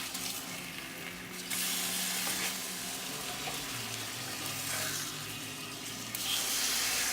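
Marinated salmon fries in a pan with a steady, broadband sizzle that holds throughout, brightening in short stretches as the fillet is handled, with no talking.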